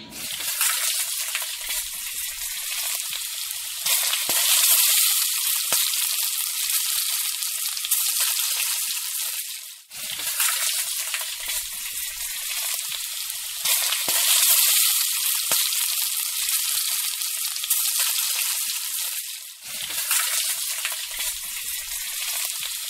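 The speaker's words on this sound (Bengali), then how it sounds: "তেল গরম হয়ে গেলে এর মধ্যে তৈরি করা সিঙ্গারা পিসগুলো দিয়ে দেব" Liver-filled singara pastries deep frying in hot oil, a loud continuous bubbling sizzle that swells and eases in waves, with no voices.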